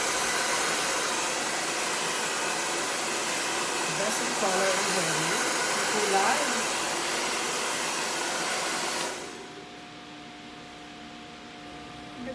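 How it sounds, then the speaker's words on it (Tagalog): A handheld hair blower roars with a steady broadband whoosh while drying hair, loud and close, then cuts off sharply near the end; a person talks briefly over it. "blower muna tayo. Blower, blower."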